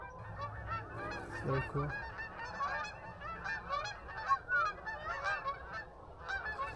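A flock of migrating geese flies south, honking repeatedly and overlapping at mid distance through an outdoor campsite scene, with a person speaking briefly over the calls.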